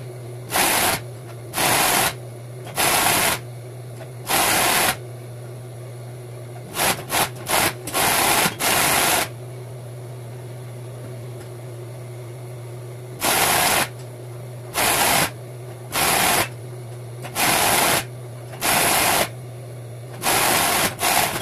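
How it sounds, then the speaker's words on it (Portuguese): Short bursts of a sewing machine stitching two fabric straps for an overall, some runs clustered in quick succession, others spaced evenly, all close over a steady low mains hum. "vamos costurar todinho as duas tiras"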